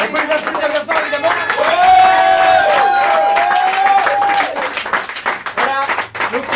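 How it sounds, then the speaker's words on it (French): A bar audience at an improvisational theatre show claps loudly and steadily for the improv performers, with cheering and a sustained whooping voice riding over the applause before it thins out and scattered talk takes over. "On peut les applaudir bien fort,"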